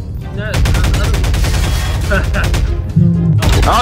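Rapid automatic gunfire in Garry's Mod running a Five Nights at Freddy's 2 mod, loud dense bursts of repeated shots with a brief pause, and voices partly underneath.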